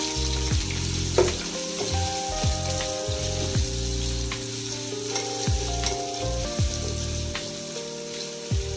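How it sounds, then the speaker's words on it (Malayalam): Two medium onions frying in oil until golden brown for prawn biryani, a continuous close sizzle with intermittent scraping stirs and a few louder spatters. "ഗോൾഡൻ ബ്രൗൺ കളർ ആവുന്നവരെയാണ് നമ്മളിത് ഫ്രൈ ചെയ്തെടുക്കുന്നത്."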